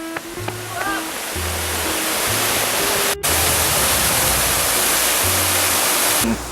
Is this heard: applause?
no